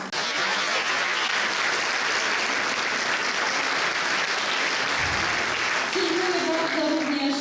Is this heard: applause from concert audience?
yes